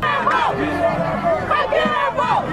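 A crowd of protesters gathered outside a Democratic presidential debate, supporting Bernie Sanders, forms a steady close hubbub of many overlapping voices, with some louder shouts rising from the babble.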